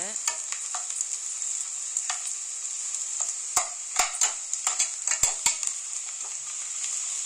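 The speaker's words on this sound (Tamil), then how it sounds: "இன்னும் கொஞ்ச நேரம் வெங்காயம் வதங்கட்டும்." Onions sauté in a pan with a constant bright sizzle, broken by irregular scraping and clicking strokes of a spoon stirring them, close and alone.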